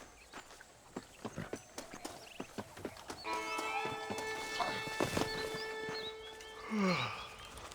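Horse hooves clip-clopping in Red Dead Redemption, a steady walking rhythm of distinct hoofbeats that fades under ringing musical tones, with a brief whinny near the end.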